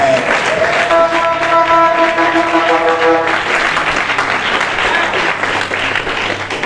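A church congregation bursts into sustained applause, dense steady clapping filling the room throughout with a held tone sounding briefly over it early on.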